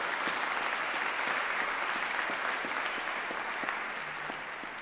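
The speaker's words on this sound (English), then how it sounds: "I do want to give one other round of applause for all of our performers this afternoon" Audience at the Honens Pro-Am concert applauds the performers with steady, moderately distant clapping that holds evenly and tapers slightly at the end.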